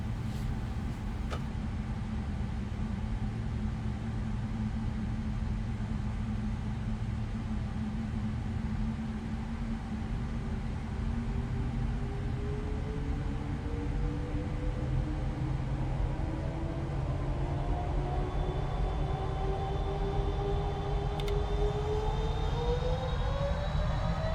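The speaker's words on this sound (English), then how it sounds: "Flight attendants and passengers, prepare for takeoff." In Microsoft Flight Simulator 2020, a Boeing 777 jet rolls for takeoff with a steady engine roar that keeps building as whining tones climb steadily higher in pitch throughout the long run.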